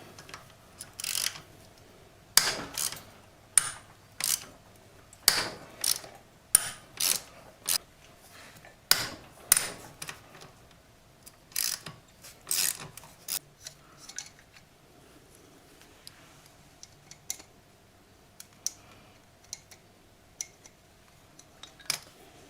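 A ratchet loosens the cylinder head bolts on a Honda Grom motorcycle engine, with short bursts of sharp metallic clicking and pauses between them, close and fairly quiet, fading to lighter clicks near the end.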